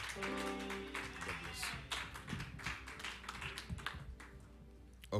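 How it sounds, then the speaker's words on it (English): A church congregation gives a clap offering at a Sunday service, a quiet, irregular patter of many hands clapping over lingering organ-like tones, with a louder burst at the very end. "giving honor to whom honor is due, with a clap offering unto God"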